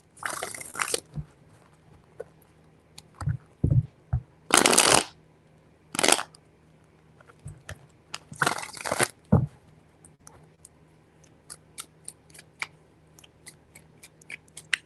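Tarot cards are shuffled in several brisk riffling bursts, each a crisp flurry separated by pauses and soft taps, close by with no talking.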